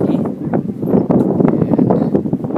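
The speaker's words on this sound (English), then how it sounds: "we got out the van, it's really windy" Strong mountain wind buffets the microphone in a steady, loud roar of gusts with no clear pauses.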